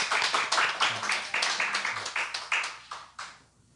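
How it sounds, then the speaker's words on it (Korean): A church congregation gives a newcomer a welcoming round of applause, a burst of rhythmic, fairly close group clapping with distinct sharp beats that thins out and fades away near the end. "우리 큰 박수로 환영하겠습니다."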